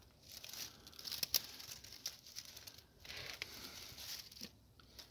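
Cycas revoluta being cut back after its leaves froze at about minus 6 degrees Celsius, with quiet crinkling and snipping of dry fronds, a few sharp close cuts and rustles scattered through a soft, intermittent stretch.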